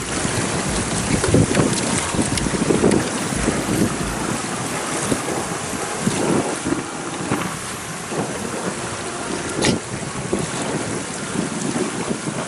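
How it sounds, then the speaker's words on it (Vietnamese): Strong wind buffets the microphone on a boat crossing flooded fields in An Giang during the flood season, roaring and gusting steadily throughout with a broadband rush and low rumble, and no talk. "Hôm nay gió quá trời gió."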